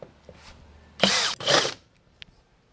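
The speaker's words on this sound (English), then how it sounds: "So what you want to do next is drill a hole." A power drill bores a hole while an A/C UV light kit is installed, with two loud whirring bursts of about a third of a second each and a short pause between them, followed by a faint click.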